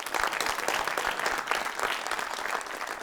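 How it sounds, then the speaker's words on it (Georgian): An audience applauding for Barbare, steady dense clapping from many hands that holds at an even level throughout. "აი, ბარბარეს აპლოდისმენტები ეხლა."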